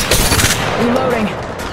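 Rapid gunfire in Apex Legends crackles in a quick burst of sharp, loud shots, followed by fainter rattling and game effects, with a voice speaking over it.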